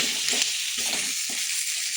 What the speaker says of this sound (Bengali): মাথাগুলো একটু হাতা দিয়ে ভেঙে দেবো